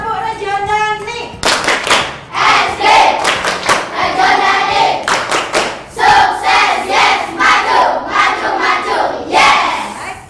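A classroom of pupils performs a rhythmic clapping chant, loud bursts of hand claps in a steady pattern mixed with shouted chanting voices, preceded by a short stretch of speech.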